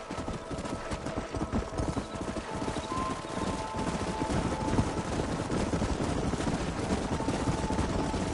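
Horses' hooves clip-clop in the video game Red Dead Redemption, a continuous layered clatter of several mounts moving together over a constant bed of ambient game noise, fairly loud and without voices.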